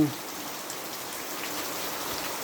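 Steady rain falling, a continuous broadband hiss of drops on surfaces with no pauses, fairly soft and even throughout.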